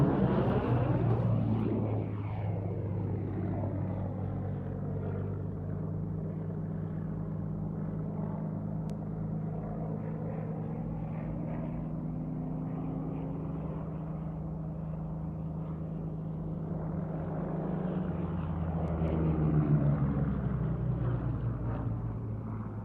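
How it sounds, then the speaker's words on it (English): A Hawker Hurricane fighter's piston engine drones steadily at an air show, with the pitch sliding down as it passes and swelling again near the end, moderately loud and with no talk over it. "But here, running in, the Hawker Hurricane 12."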